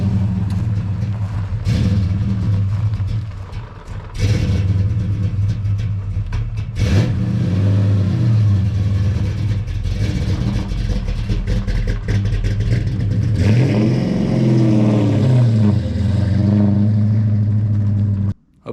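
A 1969 Dodge Charger engine revs hard with deep, rumbling pulls and rising tones, then roars off, staying loud and close throughout before cutting out abruptly at the end.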